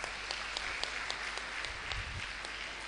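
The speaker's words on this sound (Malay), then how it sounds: "Bagi tepukan gemuruh pada Ustaz." Rousing applause from a forum audience for a religious teacher, a distant, faint, continuous patter of many hands with a few sharper individual claps standing out.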